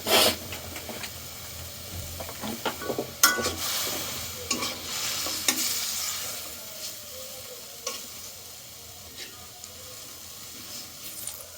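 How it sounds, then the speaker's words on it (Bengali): Fried rice with chicken and vegetables being stirred slowly with a spatula in a hot pan, giving a steady sizzle with scraping strokes and clinks throughout, close and moderately loud. "এভাবে আমরা খুন্তি দিয়ে আস্তে আস্তে নাড়বো"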